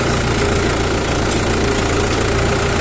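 A TD75D tractor engine labours while pulling a plough lowered fully into a field, producing a loud, dense, unbroken drone with a knocking edge that never lets up.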